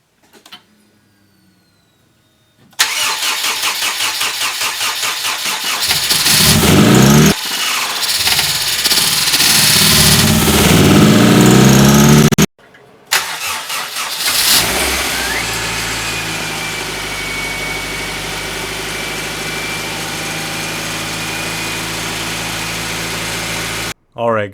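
A rebuilt Honda CR-V engine cranks and fires for its first start, roars loudly, cuts out briefly, then restarts and settles into a steady idle nearby.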